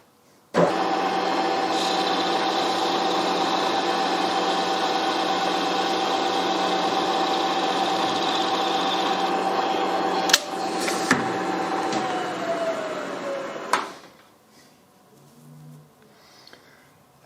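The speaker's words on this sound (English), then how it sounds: "my solution to the problem is to machine a millimetre off the end of each of these" Metal posts for an oil skimmer being machined, a millimetre trimmed off each end: a steady, loud whirring machine drone runs for about ten seconds, then slows and winds down with a few knocks before quiet.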